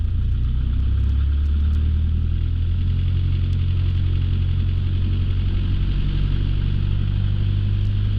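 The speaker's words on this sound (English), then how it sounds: "Let's set the throttle to idle. It should idle about 500 to 700." Light training airplane engine idling on the ground before takeoff, a steady low droning rumble with no break, loud and close throughout.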